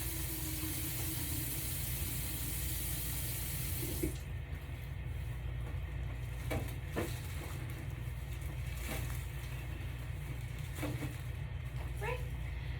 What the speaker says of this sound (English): while I go and wash my hands